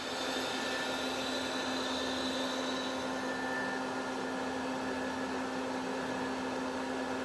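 Live tooling on the turret of a 2006 Citizen M20V 10-axis gang-turret CNC Swiss lathe spinning at 5,000 RPM, a steady even whine with a constant mechanical hum, heard alone and fairly quiet throughout.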